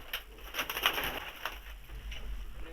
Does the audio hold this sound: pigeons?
yes